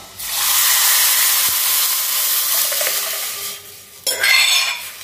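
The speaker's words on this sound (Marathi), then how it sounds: "आणि आता आपली फोडणी घालूया डाळीची," Hot tempering is poured into a pot of kat amti dal, setting off a loud, sustained sizzling hiss that slowly fades, followed by a sharp burst of stirring or spattering near the end.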